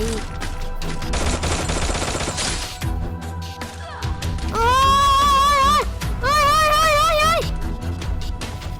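Gunfire in the mobile battle game Free Fire: bursts of rapid shots with heavy in-game effects, followed by tonal game sounds and a voice, all loud and close.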